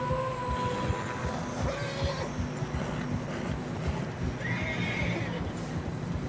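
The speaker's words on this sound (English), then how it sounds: "Horses are struggling." Horses in Red Dead Redemption 2 whinny and plod through deep fresh snow on a narrow trail, a steady muffled stream of hoof thuds with repeated neighs rising over it, close and continuous.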